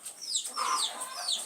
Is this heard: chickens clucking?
yes